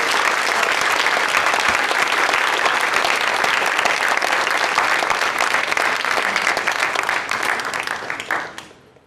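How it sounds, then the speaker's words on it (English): A large audience claps loudly and continuously, a dense close wash of hands that holds steady before tapering off near the end. "Thank you all of you for your supportive applause."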